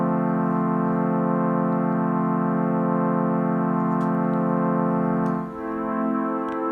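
A sustained Roland MC-303 D50 Saw synth chord loop plays alone, its bright buzzy tone holding steady before shifting to the next chord near the end.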